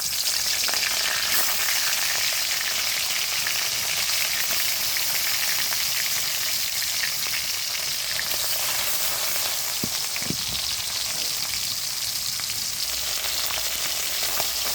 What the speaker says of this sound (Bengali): এই আমার নুন হলুদ মাখা মাছ এখানে বসিয়ে দিচ্ছি। তেলের মধ্যে দিয়ে দিলাম।